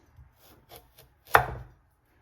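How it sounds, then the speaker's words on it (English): A knife slicing carrots for pickling on a cutting board, a few soft light taps followed by one sharper, louder cut that trails off briefly, with no talking. "I usually slice the carrots this way"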